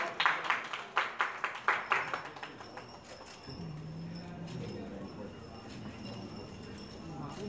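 A few seconds of evenly spaced, fairly close claps welcome judges at a music TV show launch, then fade into a quiet hum and faint background noise.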